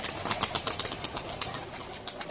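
Rapid wing flaps of a pigeon taking off, a flurry of soft fluttering beats, fairly close, with faint outdoor ambience and no talking.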